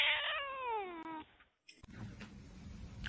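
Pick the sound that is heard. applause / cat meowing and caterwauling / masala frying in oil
cat meowing and caterwauling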